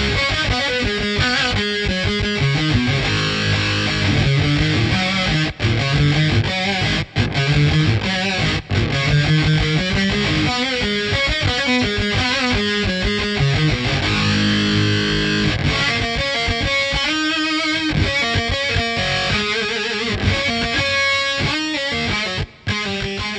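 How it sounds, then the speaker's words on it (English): An electric guitar plays through an Otto Audio Blown Out Wall distortion pedal, a loud, sputtering, splatty fuzz like a dying battery. Chords and riffs play steadily with no talk. "you can get like the dying battery sound like in a distortion pedal or a fuzz pedal"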